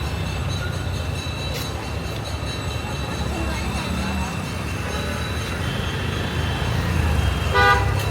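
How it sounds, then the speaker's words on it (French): A car horn toots near the end over a constant rumble of street traffic in Rishikesh, India, with a fainter honk earlier. "il y a des voitures qui vont dans tous les sens, des klaxons"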